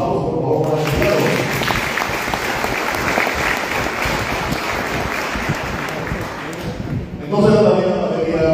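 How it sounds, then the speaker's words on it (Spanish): A crowd applauds Emiliano, a Paraguayan being honored, with a sustained wash of clapping lasting about six seconds, loud and close, with a voice faintly present just before and after. "Aplausos, por favor, para Emiliano"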